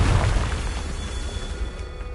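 A Confringo fire-blast spell bursts in the Hogwarts video game with a loud, deep boom up front, then a rumbling tail that hangs on for about two seconds with no voices.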